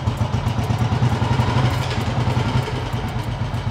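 A motorcycle fitted with lights on its wheels rides along, its mid-pitched engine running in a steady pulsing drone with some clatter, loud and close throughout.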